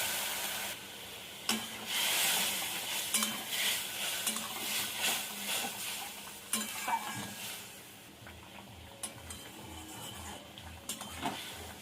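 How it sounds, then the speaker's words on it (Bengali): Shrimp fry in oil with a steady sizzle and repeated scraping and stirring strokes against a pan, close by, continuing throughout with occasional sharper clinks. "চিংড়ি মাছটা একটু তেলে নাড়াচাড়া দিয়ে নেবো।"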